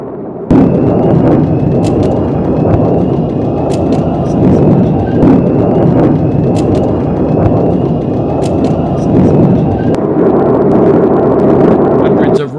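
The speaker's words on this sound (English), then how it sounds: "Rockets fired by Palestinian Hamas militants streaked out toward Israel." Hamas rockets streak out toward Israel, a loud sustained roar and rumble of launches lasting throughout, with sharp bursts and pops breaking over it at intervals.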